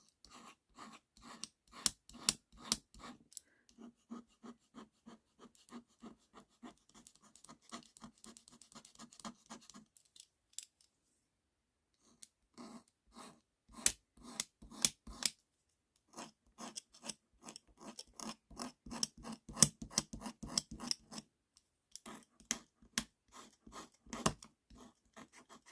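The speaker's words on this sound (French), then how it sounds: "on va gratter un peu la partie" Rhythmic scratching strokes scraping the surface of a leather bag before gluing, in quick close bursts with a short pause midway, no voices.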